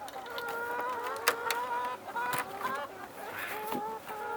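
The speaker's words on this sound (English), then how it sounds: "You goofy chickens" Homestead hens clucking and squawking close by at feeding time, a busy overlapping run of short calls with occasional louder cries, and a person talking faintly underneath.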